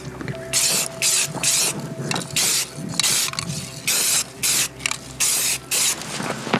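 Rust-Oleum spray paint in green, brown and khaki hisses onto a rifle in about a dozen short, loud, close bursts with brief pauses between them.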